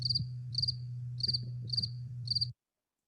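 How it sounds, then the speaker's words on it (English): A cricket sound effect chirps in five quick, evenly spaced bursts of high trills over a low steady hum, then the sound stops abruptly. "maybe you add some crickets"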